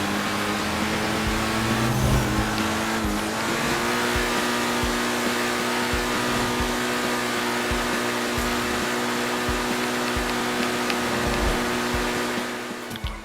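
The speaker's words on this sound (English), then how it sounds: "Let me shut up for a second so we can hear that exhaust note." A car's exhaust note while driving: a loud, sustained engine drone with shifting pitch and rhythmic pulses as it revs and pulls along, close and dominant, with no talking.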